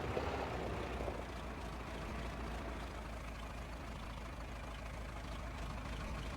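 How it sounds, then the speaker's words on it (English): A tractor idles in the Farming Simulator 25 video game, a steady low engine rumble with a faint higher hum, even and continuous throughout. "Sounds okay at idle."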